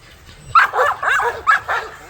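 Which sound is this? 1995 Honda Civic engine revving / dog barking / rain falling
dog barking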